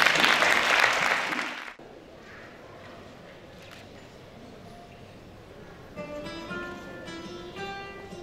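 Audience applause at a Christmas carol (villancico) contest in Jerez de los Caballeros, a loud burst of clapping for about two seconds that cuts off abruptly, followed by quieter room noise and faint instrumental tones.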